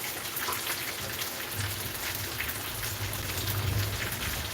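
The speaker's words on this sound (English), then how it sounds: "the rain's coming down" Steady rain pours down in a continuous, even hiss with a low rumble beneath it, and no voices break through.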